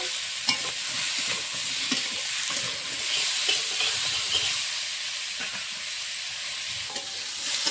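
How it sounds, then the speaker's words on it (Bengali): Potato, cauliflower and eggplant with turmeric and salt frying in a pan, a continuous close sizzle broken by scraping stirs and light clinks of a utensil, with no talk. "ভালো করে সবজিটা ভেজে নেব।"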